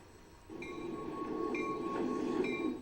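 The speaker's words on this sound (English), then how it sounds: "As commuter trains rolled into Air this morning" A commuter rail train rolls into a station in the morning, a steady low rumble of wheels and cars with a sustained metallic squeal and bright tonal whines rising and falling over it, fairly close and continuous with no talk.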